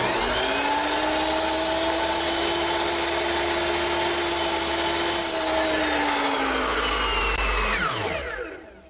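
A power saw cuts 2x4 roof rafters at a 13-degree bevel, a loud close whine held steady through the cut before the motor winds down at the end.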